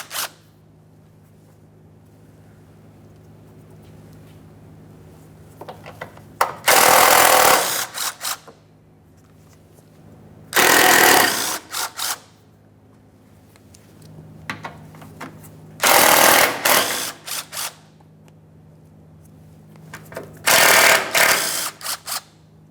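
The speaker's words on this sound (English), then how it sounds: "Now we can remove some 10mm headed mounting bolts." A ratchet wrench backs out 10mm mounting bolts on a 1994-1997 Honda Accord 2.2L during AC condenser fan removal, four separate bursts of rapid clicking spaced a few seconds apart against a quiet workshop background.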